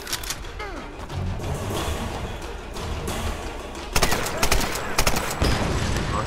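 Gunfire in the Tomb Raider video game, a dense run of shots and bursts over steady game noise, growing louder and sharper with several heavy blasts near the end.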